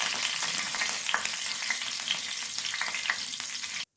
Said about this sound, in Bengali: কারি পাতাটাকেও তেলের মধ্যে দিয়ে বেশ মুছে করে ভেজে নিতে হবে